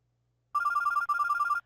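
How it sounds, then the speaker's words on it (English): A phone ringtone from the video game Mr. Love: Queen's Choice sounds clear and loud, an electronic ringing pattern that repeats in two bursts of about half a second each, with no voices over it. "my phone went off."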